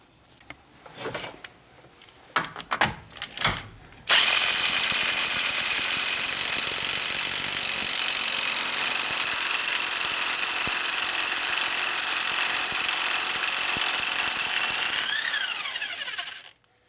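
A 36 mm socket takes off the front wheel hub nut on a 2002 Pontiac Grand Am: a few metallic clanks, then about eleven seconds of loud, harsh, sustained power-tool whirring that winds down at the end.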